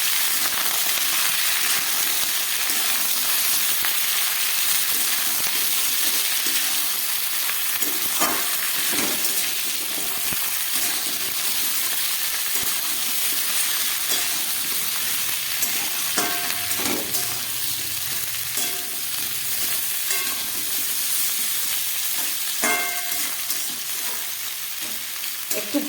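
Sweet pumpkin, potato and mixed vegetables frying together in oil, a constant loud sizzle with occasional stirring scrapes and small spits, no talking.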